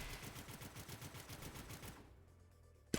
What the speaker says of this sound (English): But you can obviously shoot them out the air.